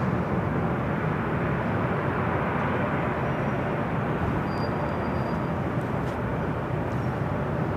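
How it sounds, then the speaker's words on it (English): A Delta Air Lines Boeing 757-200, an older ex-Western 757, passing overhead at Los Angeles International Airport, giving a steady, broad roar of jet engine noise that stays loud and even throughout, with no speech. "Another 757 heading over to 24 left. Delta Airlines Flight 437, it's the old DWA 757-200 heading back to Boston."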